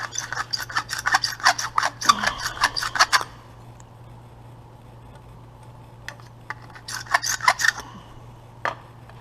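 Rasping, rubbing bursts of a hand reamer working out the center of a small T drill project part, two clusters of scraping strokes separated by a quiet pause, close and moderately loud.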